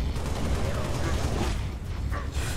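Concussion rifle fire in the shooter game Halo: Reach, a sustained barrage of booming blasts and explosions that fills the whole moment at high volume, with no pause between impacts.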